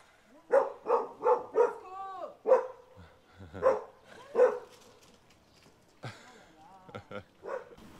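A dog outdoors in Corsica barks in a quick run of close, sharp barks, then gives a few more spaced barks and softer yelps before trailing into quieter sounds.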